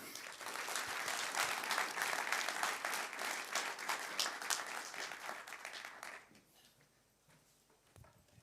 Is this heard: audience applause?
yes